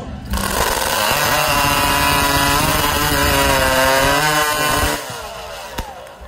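A chainsaw cutting timber discs at the New England Cup 2022 timber sports competition roars at full throttle for about five seconds, then drops to a lower idle near the end.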